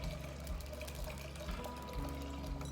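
Grapefruit juice pours steadily and continuously into a pot, a close, even gushing stream with a low, sustained hum in the background.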